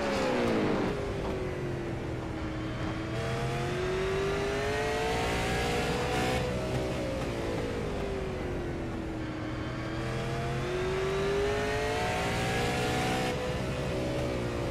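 A Pierce Fleet Supers race car, number 32, drives through a race. Its engine drones loud and steady, rising and falling in pitch as it revs through gear changes, with no voices over it.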